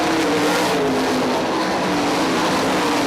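Sprint cars roar around a dirt oval at I-96 Speedway during a race, engines loud and continuous as the field circles and leaders work through lapped traffic, with no voices heard.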